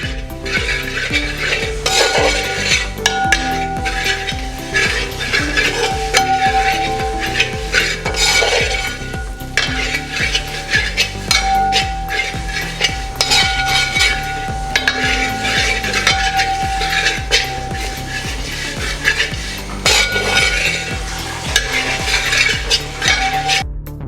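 Beef sautéing with meat masala in a pan, with a steady loud sizzle under repeated scraping and clinking of a spoon stirring against the metal, continuous and close with no talk.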